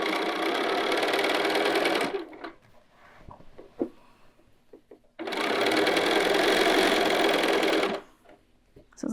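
A sewing machine stitches a long skirt seam in two loud, steady whirring runs, broken by a quiet pause filled with fabric handling and small clicks.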